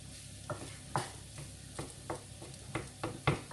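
Rice being stirred into a frying meatball mixture in a pan, a quiet sizzle under repeated scraping spoon strokes at an irregular rhythm, with no talking.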